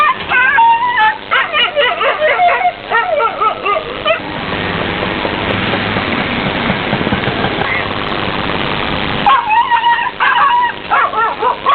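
A dog yelps and whimpers in repeated sharp cries outside a house while a three-wheeler engine idles nearby, with the cries broken by a stretch of steady rumbling noise.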